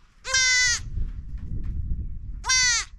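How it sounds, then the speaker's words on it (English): Young goat kid bleating close by, two loud wavering cries separated by a short pause, over low background rumble. "What are we going to call this goat?"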